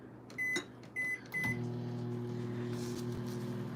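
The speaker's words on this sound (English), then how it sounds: "put this back in the microwave. Another 30 seconds and it should be ready." A kitchen microwave oven heating a bowl of melted chocolate and nuts gives three quick beeps, then settles into a steady, close electric hum as it runs.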